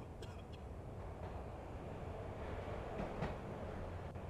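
A train in the video game Max Payne rumbles steadily under a low, continuous roar, with faint metallic clanks and squeals rising at moments, heard at a distance and fairly quiet.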